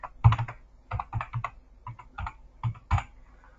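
Keys are tapped on a computer keyboard in short irregular bursts while an email and password are entered, close and clear with nothing else over it.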